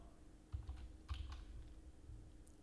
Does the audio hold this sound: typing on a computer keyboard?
yes